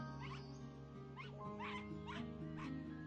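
A dog in a video game gives a string of short, yelping barks, about five in a row at a steady pace, fairly faint over a constant droning musical background.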